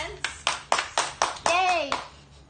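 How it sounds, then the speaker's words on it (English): Children clap their hands in an evenly spaced rhythm, about seven crisp claps in a row, with a young voice cheering partway through. "Let's clap our hands."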